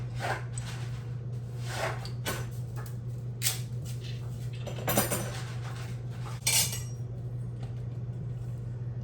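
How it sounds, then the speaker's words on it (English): A spoon scrapes and clinks against a cooking pot as spaghetti is stirred in a home kitchen, with a few sharper knocks among scattered light clatter over a steady low hum. "Give it a quick stir"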